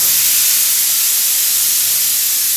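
A loud, steady hiss of steam rushes out continuously from a new pressure cooker's whistle venting, with no other sounds over it.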